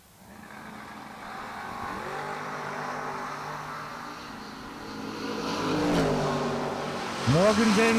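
Drag racing cars, a Pro 1 Ford Bronco and a Chevy S10, roar steadily at high revs, the engine note swelling and shifting pitch, with a sharp rising rev burst near the end.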